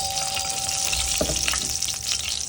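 Panch phoron spice mix and whole cumin seeds frying in mustard oil in a karahi, a bright dense sizzle with a few crackles and a spoon scrape, close and steady, no talking.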